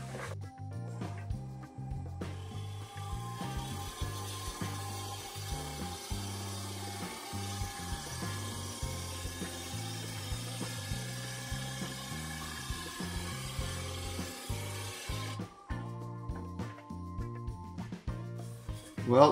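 A freshly honed gouge cuts a maple burl bowl spinning on a lathe, giving a faint, continuous scraping whir with a steady tonal hum and repeated light catches, ending abruptly.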